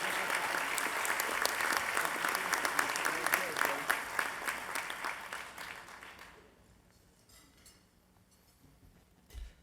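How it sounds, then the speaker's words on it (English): Audience at a Father of the Year awards event applauds steadily for several seconds with dense, fairly loud clapping, then the clapping thins and fades into a quiet room. "Please join us and welcome them with applause."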